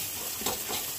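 Fish roe fries in a pan, a soft, steady sizzle with faint stirring scrapes. The sound is close and quiet, one brief continuous stretch with no voices.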